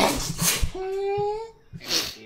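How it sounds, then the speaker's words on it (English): A single person's sneeze bursts out between short breaths, with a sharp high-pitched vocal squeal in the middle and a brief spoken word nearby. "I'm sneezing"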